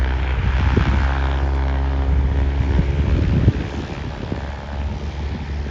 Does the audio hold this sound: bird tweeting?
no